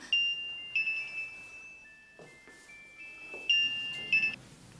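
A mobile phone rings with a bright electronic melody in two bursts, tonal chimes repeating, with quieter rustling and movement between them; no speech.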